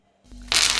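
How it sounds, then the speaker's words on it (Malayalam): Torn dried red chillies drop into hot oil while tempering for a tomato pachadi; after a brief near-silent moment, a sudden loud, bright sizzle erupts and holds steady. "ഞാൻ വറ്റൽമുളക് കീറിയിട്ട് കൊടുക്കുന്നുണ്ട്"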